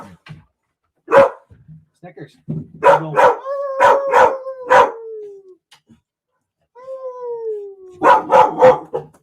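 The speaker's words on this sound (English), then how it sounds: "All because you want to hear him howl." A dog barks in sharp bursts and lets out long falling howls, with pauses between bouts, while people talk and call out close by.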